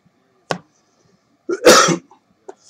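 A short cough, then a louder, harsher cough or throat clear a second later, close and isolated against silence.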